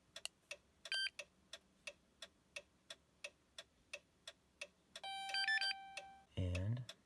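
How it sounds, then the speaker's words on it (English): A simple key programmer working on a Dodge Durango spare key gives a string of evenly spaced short beeps, closed by a longer tonal chime and a brief voice. "now that we've heard those beeps, our key is programmed"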